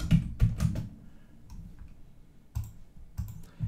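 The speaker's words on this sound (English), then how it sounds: "I can type in the name" Typing on a computer keyboard, with scattered soft key clicks in short irregular clusters and pauses, close and quiet, no talking.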